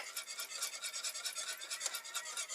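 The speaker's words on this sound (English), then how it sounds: "you're just going to want to whisk it around a little bit until it starts getting thick" A whisk scrapes quickly around a pan of thickening sauce, giving a soft, even rhythmic swishing with no voices.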